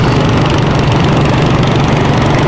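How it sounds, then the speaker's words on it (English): Pulling garden tractor engine at an outdoor tractor pull parade, a loud, steady, continuous drone with a deep low rumble, close by and alone, with no pauses or talk. "So these are pulling, you can see the weights on them. These are pulling garden tractors."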